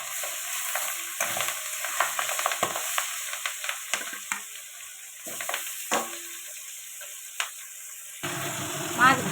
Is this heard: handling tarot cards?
no